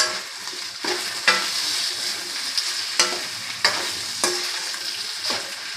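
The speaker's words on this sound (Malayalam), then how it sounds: "അതിലേക്ക് നമുക്ക് അരിഞ്ഞു വെച്ച തക്കാളി ഇടാൻ പോവാണ് നമ്മൾ. ഇനി നമുക്ക് നന്നായിട്ട് ഇളക്കാം." Chopped okra and tomato sizzle steadily in a pan while a spoon scrapes through them in repeated strokes, loud and close.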